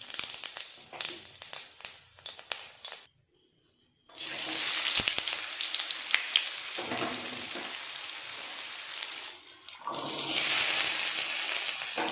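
Soaked sago (sabudana) khichuri sizzles and fries in a pan, a loud close hiss broken by stirring and scraping, with a brief silent gap before the frying swells again.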